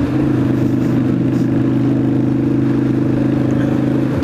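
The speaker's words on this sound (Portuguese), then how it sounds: "O cara para atrás de mim e fica acelerando" A loud vehicle engine idles close behind a motorcycle with a steady, throbbing hum, holding a constant rumble throughout with no speech.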